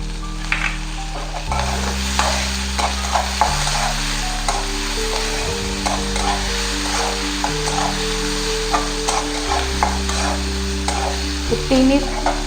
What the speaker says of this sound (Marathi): हे तिन्ही साहित्य थोडेसे अजून परतून घेऊया